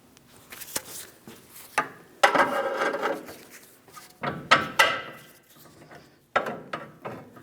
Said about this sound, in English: We'll pry down and pull this out and away, separating the ball joint from the lower control arm.